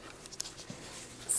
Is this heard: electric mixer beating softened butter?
no